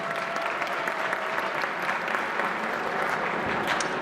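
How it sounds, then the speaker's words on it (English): An audience claps for the grand sponsor at a community association event, a continuous even wash of applause from a large crowd, moderately distant and steady throughout. "So please give them a big round of applause."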